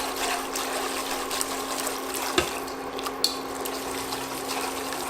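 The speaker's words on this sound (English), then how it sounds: "Then add the cold water." Cold water pours into a soup pot over butter and cooked flour, a steady close splashing rush with a persistent hum beneath and a few small clanks partway through.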